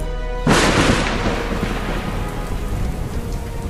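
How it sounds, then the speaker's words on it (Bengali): Heavy downpour begins outdoors, a sudden loud wash of rain that swells in at once and then settles into a steady roaring hiss with a low rumbling undertone. "এমন সময় বাইরে মুষলধারে বৃষ্টি আরম্ভ হলো।"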